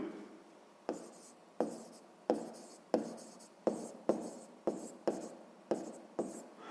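A pen or pencil scratches out an equation in a maths lesson, about a dozen short strokes in an irregular rhythm, close and quiet, with no voice over them.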